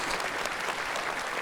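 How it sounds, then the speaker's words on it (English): Brief burst of steady audience applause at a talk on multiple sclerosis, dense clapping from a seated crowd, even and moderately loud. "applause"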